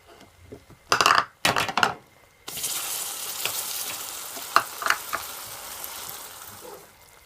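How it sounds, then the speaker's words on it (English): Butter dropped into hot caramel in a pan: a few quick utensil clatters first, then a sudden loud sizzle that bursts up and keeps bubbling steadily to the end, with no voices. "So now I'm gonna add my butter."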